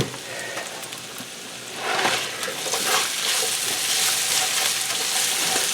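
Food frying in oil in a pan on medium heat, a steady crackling sizzle that swells slightly after a couple of seconds and continues evenly throughout, with no voices.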